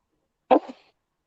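A single close, sharp sneeze bursts out once and fades quickly, with silence before and after and no talking.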